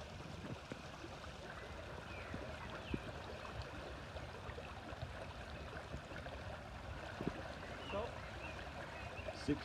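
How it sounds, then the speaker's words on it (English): River water at Black Brook flows steadily, a soft continuous rush and trickle running throughout with a few faint knocks over it. "our final time of measuring how fast the river is flowing"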